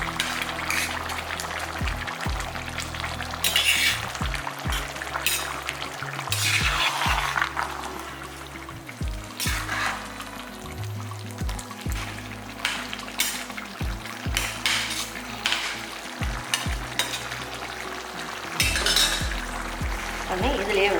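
Cooked rice is spooned and layered into a big pot of vegetable dum biryani made for a family function, with repeated scraping, soft thuds and metal clinks of the ladle against the vessel over a low background hum.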